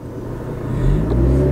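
A Fiat car pulls away as a learner driver lets out the clutch, its engine rumbling low and swelling gradually into a steady acceleration close by, with no voices.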